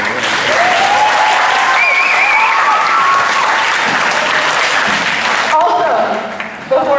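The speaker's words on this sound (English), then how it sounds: "Let's take this time to give our parents a round of applause." A round of applause for the parents at a Seisen volleyball senior night, loud, dense clapping filling the gym, with faint voices and whoops riding over it before it thins out near the end.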